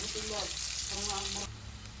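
Onion and garlic frying in a pan, a dense close sizzle, with brief faint voice-like tones mixed in before the sound drops quieter near the end.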